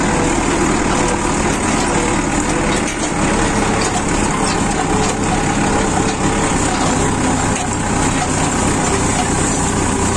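Tractor engine running steadily on a farm while hauling sugar cane to feed cows in winter, a loud continuous mechanical drone with a dip near the three-second mark.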